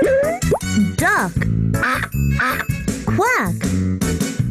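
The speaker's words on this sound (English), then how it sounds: "A duck makes a quack sound." A duck quacks several times in nasal, bouncing bursts spread across a few seconds, sounding near and clear against a steady, playful backing tune.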